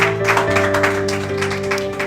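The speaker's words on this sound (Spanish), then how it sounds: "Tiene un fuerte aplauso al Señor." A church congregation applauds the Lord during a worship service, a dense patter of clapping running steadily beneath sustained keyboard chords, with no speech.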